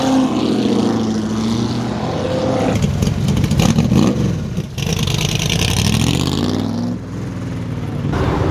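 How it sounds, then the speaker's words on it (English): A loud Chevrolet Camaro revs at a Houston car meet, its engine roaring steadily and close for several seconds with throttle swells and a brief dip near the end, with no talk over it. "You gotta be one of the loudest Camaros in Houston"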